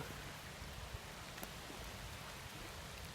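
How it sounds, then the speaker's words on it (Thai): Heavy rain falls on the Mekong River outdoors, a dense steady hiss of downpour filling the whole stretch with no pauses, with a few faint taps over it. "ตกแรงแล้วครับ"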